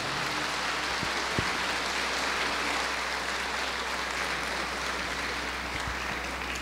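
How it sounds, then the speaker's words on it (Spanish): A church congregation at a live gathering applauds a welcomed guest: steady, even clapping that fills the whole stretch at moderate distance, with no voices over it. "Que se oigan los aplausos."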